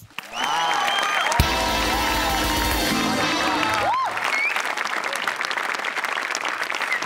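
A comedy show audience breaks into loud, sustained applause for about three seconds, then it fades into lighter crowd murmur and scattered clapping.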